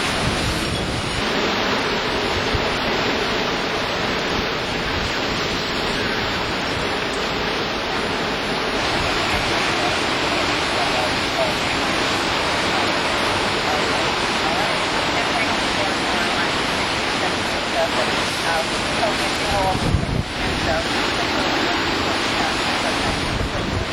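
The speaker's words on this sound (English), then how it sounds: "Consistent whipping wind here. It's got to be hurricane strength here." Hurricane-strength wind during Hurricane Wilma in Royal Palm Beach, Florida, roaring steadily and loudly for the whole stretch as a dense, unbroken rush with slight surges, battering the microphone. No voices break through the gale.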